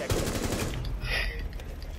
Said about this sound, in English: You're gonna get shot in the back by Valkyrie.